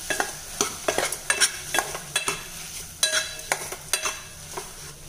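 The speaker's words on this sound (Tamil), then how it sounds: "இப்போ நான் வேக வச்சு மசித்து வச்சுருக்க உருளைக்கிழங்கு சேர்த்துறேன். இதில் ஒரு பரட்டி விட்டுடலாங்க." Mashed boiled potato is stirred into a frying potato kurma masala in a pan, giving repeated scraping and clinking strokes in a steady rhythm over a soft sizzle.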